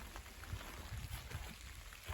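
Rain patters steadily in a wooded park in winter, a soft, even hiss of falling drops with faint low rumble underneath.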